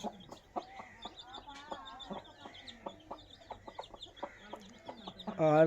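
Hens and a rooster of a parrot-beak breed with short beaks and long tails cluck steadily in short, repeated calls close by, building to a louder burst of clucking at the end.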